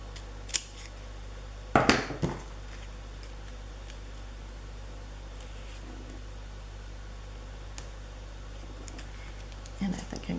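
Scissors snip a small craft piece for a miniature dairy farm scene in a few brief, close cuts, with quiet talk and low background hum around them.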